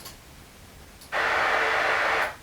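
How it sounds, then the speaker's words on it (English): Steady burst of white noise test signal from a Genelec 8351 studio monitor during GLM calibration, about one second long and alone, starting abruptly after a faint click and cutting off cleanly. "when you get a speaker, you hear this white noise sound"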